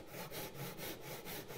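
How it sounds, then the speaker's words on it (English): A tenon saw cuts along a gauge line in wood, its rhythmic back-and-forth strokes rasping close and clear about six times in quick succession. "take a saw, a tenon saw like this, and just run that right along"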